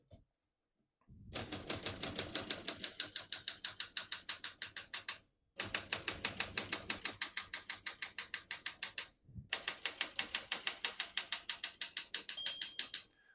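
A 1969 Olympia SM9 portable typewriter being typed on in three steady bursts of rapid mechanical keystrokes, separated by brief pauses, with a faint margin bell ring near the end; close and alone with no talking.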